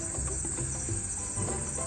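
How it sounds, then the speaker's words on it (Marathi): Crickets chirp outdoors at night near a monsoon picnic cottage, a steady shrill trill holding continuously, with soft low rumbles beneath and no speech. "रात्रीच्या वातावरणात रातकिड्यांचा असा आवाज येत होता"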